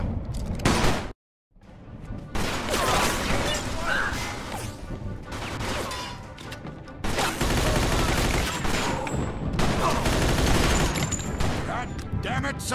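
Sustained, chaotic gunfire from a Mafia 2 shootout, loud overlapping bursts and crashes that fill most of the stretch after a brief silent gap, with shouted voices mixed in.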